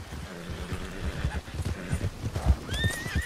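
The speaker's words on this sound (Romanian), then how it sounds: "Ia fuge calul lui Vane" A horse on a hunting outing whinnies in a high, wavering call near the end, while hooves clip-clop steadily throughout over rustling ground noise, fairly close and moderately loud.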